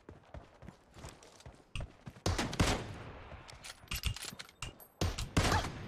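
Sniper rifle gunfire in a sniper-only team deathmatch video game, with a string of sharp, loud shots and clustered bursts of firing over quieter footstep-like thuds.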